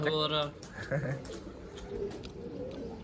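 A pigeon coos in low, rolling calls nearby as people talk over it at a pigeon loft.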